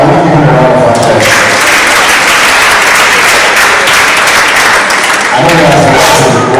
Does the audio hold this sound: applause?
yes